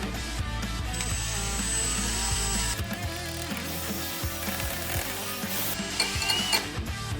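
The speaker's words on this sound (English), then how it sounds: "Alright, now it's time to blend." A blender whirs steadily for a keto breakfast burrito, a continuous mechanical drone with rattling, grinding texture and slight shifts in pitch as the contents churn, loud and close with no voices.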